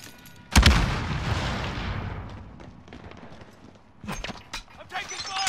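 Gunfire in the video game Warzone during a trios match: a sharp heavy blast followed by a rumbling decay, then a flurry of quick cracking shots near the end, with players talking over it.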